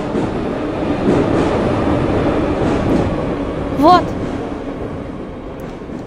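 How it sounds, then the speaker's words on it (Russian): Yauza metro train arriving in the Subway Simulator 3D game, a steady rumbling rail roar throughout with a brief rising squeal near the end, under a voice speaking briefly. "Вот, ребята, и наш следующий поезд. Вы видите, он едет."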